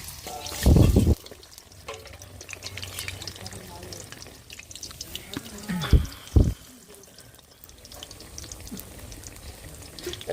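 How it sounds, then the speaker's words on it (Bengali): Water lily stems dipped in batter deep-fry in hot oil, giving a low, steady bubbling hiss broken by a few loud knocks and clatters of utensils. "দেখো কত সুন্দর ভাজা হচ্ছে আর তেলটাও অনেকটা গরমে গেছে"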